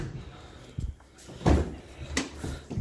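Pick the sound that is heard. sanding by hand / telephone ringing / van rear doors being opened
van rear doors being opened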